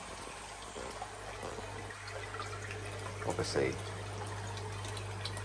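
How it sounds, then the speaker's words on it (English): Water pushed by a Tempest pump streams steadily into a koi fry tank, a continuous rushing and splashing with a low hum underneath, while someone talks over it. "It's giving me a good flow."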